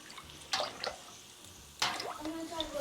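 Rennet dissolved in water is stirred for homemade mozzarella, giving two short bursts of liquid sloshing and clinking, close and moderately loud, with quiet gaps between them.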